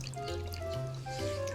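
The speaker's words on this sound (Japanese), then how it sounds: "壺を洗って" Tap water runs steadily while a ceramic pot is rinsed, a close continuous splashing trickle with a faint steady tone underneath, no talk.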